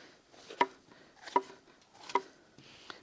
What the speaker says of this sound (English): I'm going to go over and I got to just give these a nice rough chop.